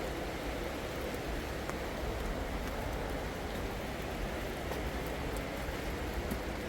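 Steady, soft wash of rain falling outdoors on a mountain slope, an even hiss with a few faint ticks of drops and no voices.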